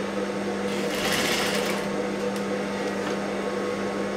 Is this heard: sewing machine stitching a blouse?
yes